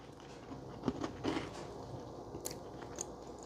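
Quiet bites into peanut butter cookies with crunchy edges and soft centres, giving a few soft crunches and chewing sounds close up, then faint rustling, with no talking.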